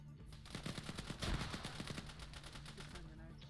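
Gunfire in a Falklands War military shooter game: rapid bursts of shots crackle throughout, with a heavier blast near the middle and people talking over the shooting.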